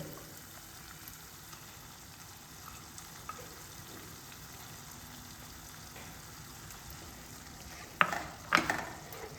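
Mustard-poppy paste with green chilli goes into a pan of tomato-based masala for a Bengali pabda fish curry. A quiet low sizzle runs throughout, then a louder burst of frying and scraping near the end.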